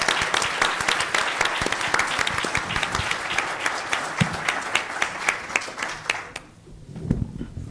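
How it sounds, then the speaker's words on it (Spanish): Audience applause for panel speakers closing a session on electoral justice, a sustained wash of many hands clapping at close range that cuts off sharply near the end, leaving a quieter room. "Un fuerte aplauso para nuestros ponentes que cerramos."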